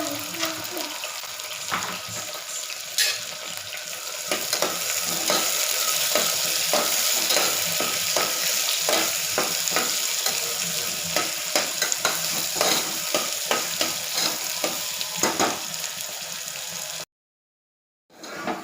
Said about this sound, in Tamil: வெங்காயமும் பச்சை பச்சை மிளகாயும் சேர்த்து போட்டாச்சு ஏற்கனவே நல்லா வதக்கிடலாம்